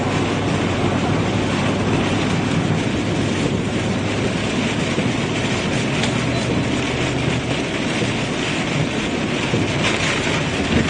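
Strong, intense wind roars near a tornado circulation in Illinois, a loud, steady broadband rush that holds continuously with no gaps and no voices, close and overwhelming throughout.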